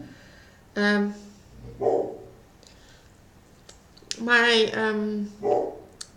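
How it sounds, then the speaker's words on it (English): A dog gives a few loud barks close by, a single bark first and then a quick cluster, with soft whimpering sounds between them. "I don't know what he's barking about."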